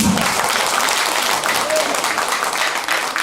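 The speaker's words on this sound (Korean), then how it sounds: "이참에 박수 한 번 나와야 되는데" Audience applause in a concert hall during an invited singer's performance with an arts troupe, a dense, steady wash of clapping that stays loud throughout.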